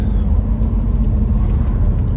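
A Triumph Stag out on a drive, its engine giving a steady deep low rumble heard from inside the car, loud and continuous with no talking.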